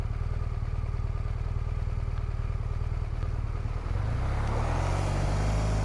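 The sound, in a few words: cars passing on a road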